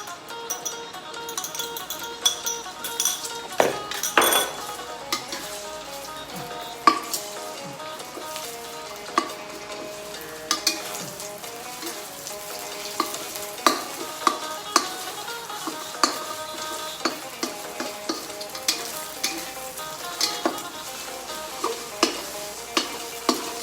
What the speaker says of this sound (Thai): ถ้าเกิดน้ำมันเดือดแล้วนะคะ เราก็จะใส่ไข่ลงไปค่ะ